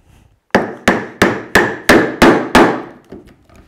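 A hammer drives a chisel into wood, chopping out waste toward a shoulder line while building a workbench: seven sharp, evenly spaced, ringing blows up close, then a few fainter taps.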